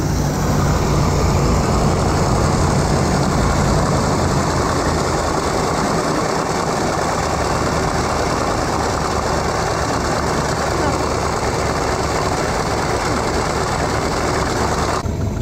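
Engine held at fast idle after a Rochester Quadrajet E4ME electronic carburetor rebuild, a loud, steady drone with an unchanging rumble all the way through.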